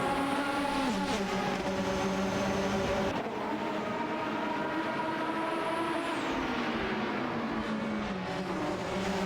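Race car engines in a video game race, including period Formula One cars, whine loudly and continuously with rising and falling pitch as they shift gears and overtake, with several cars layered together.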